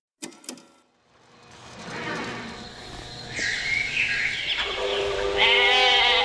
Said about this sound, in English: What's gonna happen to the goat?